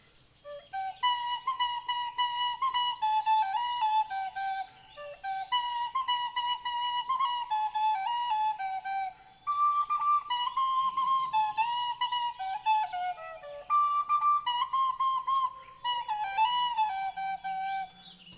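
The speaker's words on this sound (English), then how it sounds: "if you actually recognize that song that I just played on the tin whistle, you win." A tune played on a tin whistle, with clear high breathy notes in several phrases separated by brief pauses, heard alone.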